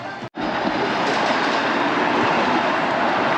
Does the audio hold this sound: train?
yes